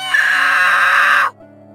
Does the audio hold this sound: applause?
no